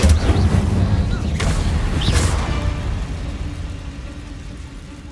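An Incendio fire spell cast in Hogwarts Legacy, giving a loud whooshing burst with booming impacts at the start that fades over several seconds, with a couple of sharp bright crackles along the way.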